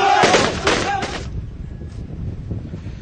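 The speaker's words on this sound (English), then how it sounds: "This is celebratory gunfire." Celebratory gunfire in a city street during fighting, a few sharp loud bangs in quick succession at the start, then fading into distant rumble and wind noise.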